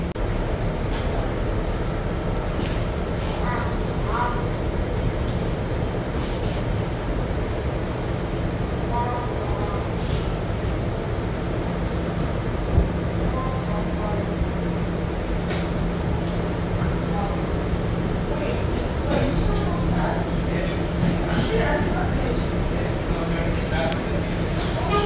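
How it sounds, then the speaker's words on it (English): Steady, continuous rumble and rail roar from inside an MTA R211A subway car running on the Rockaway Shuttle (S train) in New York, loud throughout with faint announcement voices over it. "This is a Rockaway Boulevard bound shuttle train."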